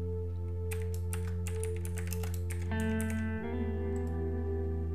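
Someone types a folder name on a computer keyboard, a quick run of close, light key clicks over a steady electronic hum, pausing after a few seconds.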